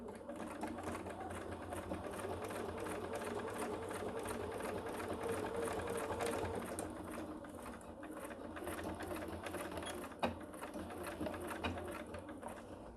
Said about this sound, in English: Now we're gonna sew 1/8 of an inch on the other side of the line.